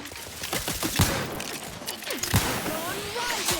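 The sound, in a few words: gunfire from video game The Outer Worlds 2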